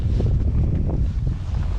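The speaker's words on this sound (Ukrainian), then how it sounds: "Вітер роздувся настільки сильний, що ну просто не дає ловити" Strong wind on the Dnipro River while fishing buffets the microphone with a loud, continuous low rumble and gusty roar.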